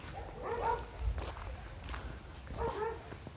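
A dog tied up outdoors gives a few barks spaced about two seconds apart, mid-distance and moderately loud, with footsteps and rustling around it.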